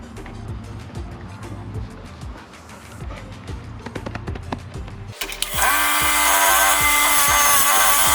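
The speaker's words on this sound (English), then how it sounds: "We're gonna see if we can grind down this metal." A bench grinder spins up and grinds down welded metal in a workshop after several seconds of quiet clicks and handling noise, then runs as a loud, steady, whining roar to the end.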